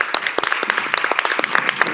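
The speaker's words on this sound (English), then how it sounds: "Can we give them a round of applause?" People at a school district advisory board meeting applaud retiring staff, a lively, fairly close patter of many hands clapping at a quick, uneven rate throughout.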